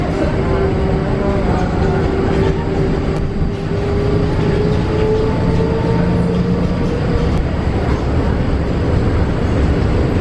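A passenger train rolls along its rails with a loud, steady rumble and rattle that lasts throughout. A faint whine rises and falls over the clatter of the wheels.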